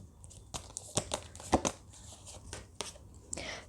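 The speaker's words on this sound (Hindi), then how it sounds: "पहले हम सारे कार्ड्स निकाल लेते हैं." Tarot cards being drawn and handled from a deck, giving several crisp papery snaps and rustles in short, uneven bursts, close up with no talking.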